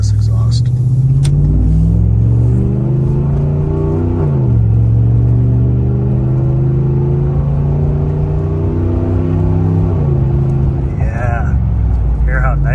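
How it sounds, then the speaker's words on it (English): A car fitted with a Rough Country exhaust accelerates through city traffic, its deep exhaust rumble climbing in pitch, dropping at a gear change and climbing again, loud and close throughout. "Listen to this exhaust."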